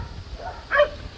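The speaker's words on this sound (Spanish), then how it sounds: "Le está ladrando un perro." A single short bark from a dog caught up in a fight with another dog rings out at middle distance over a low rumbling background.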